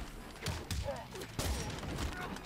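A gunshot in the Mortal Kombat X fighting video game, with sharp cracks and thumps among fight impacts and a background voice speaking over the action.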